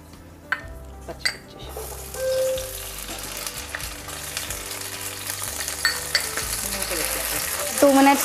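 Green chillies frying in hot oil in a pan, a steady crackling sizzle up close, with a utensil stirring and scraping now and then and a brief louder burst near the end.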